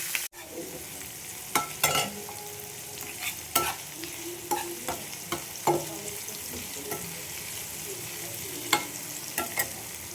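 A large onion frying in a pan after a tempering of spices, soft steady sizzle with scattered sharp clinks and scrapes of a spatula, close up with no talk.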